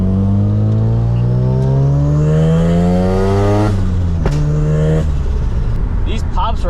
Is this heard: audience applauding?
no